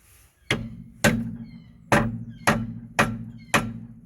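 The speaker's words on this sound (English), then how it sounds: "I'm going to hit it with the copper mallet" A copper mallet strikes a socket being fitted during a Honda Jazz/Fit rear shock absorber replacement: six sharp, loud metallic blows at an uneven steady pace, each ringing briefly, with no talk.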